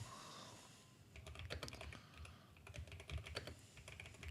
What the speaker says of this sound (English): Using a typewriter over there.